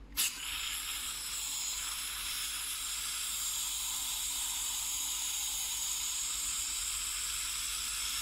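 A Tokyo Marui airsoft pistol magazine being charged with gas gives a steady, loud hiss that starts with a brief click and runs unbroken for several seconds, close up and alone.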